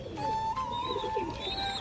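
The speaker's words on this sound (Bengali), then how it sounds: "বেলডাঙা পুরাতন লাইনের পায়রা বন্ধুরা।" Old-line Beldanga pigeons, kept alongside a Rampuri lalkath pair, coo softly and steadily at close range, with faint chirpy overtones and no talking.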